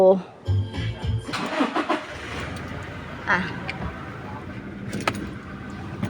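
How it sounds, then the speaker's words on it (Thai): A Toyota Revo four-door automatic pickup truck engine cranks and catches with a short burst, then settles into a low idle close by, while someone talks over it. "สตาร์ทสักนิดนึงดีกว่าเมื่อกี้เรายังไม่ได้สตาร์ทเลย"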